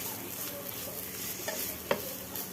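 Laddu mixture being stirred and sautéed in a pan after long roasting until soft, a soft continuous scraping hiss with a couple of brief sharper knocks of the utensil against the pan.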